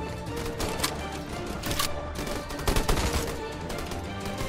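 Gunfire in the video game P.A.S Post Apocalyptic Show, repeated sharp shots in irregular bursts with a denser volley near the end, fairly loud against game ambience.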